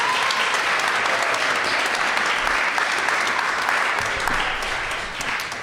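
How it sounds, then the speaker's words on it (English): An audience applauds warmly and continuously for several seconds, a dense, loud wash of clapping that thins slightly at the end. "Also, give a round of applause to Marty McNulty, who does the sound."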